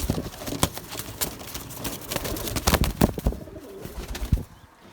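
Fantail pigeons in a breeding loft coo softly amid irregular knocks, shuffling and brief wing flaps close by, before the sounds settle into near quiet.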